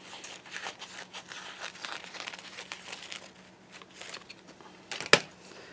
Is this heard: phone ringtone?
no